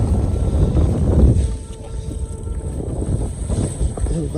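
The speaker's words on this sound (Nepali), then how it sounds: "मेरो भारी उडाउनलाई हावाले" Strong wind buffets the microphone outdoors in a village, a loud rough low roar that gusts, eases slightly, then picks up again, with no clear voices.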